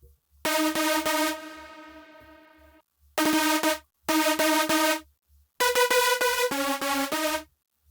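Bright synth lead preset with its upper harmony notes stripped out, played in a big-room psytrance production in FL Studio 20: loud, buzzy sustained chord stabs in short phrases separated by gaps, over a soft steady low kick pulse.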